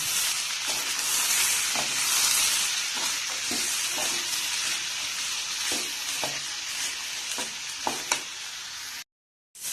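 Koorka (Chinese potato) stir-fry being stirred in a pan, with a steady sizzle and a run of scraping strokes at an uneven rhythm, close and fairly loud, then a short silence near the end.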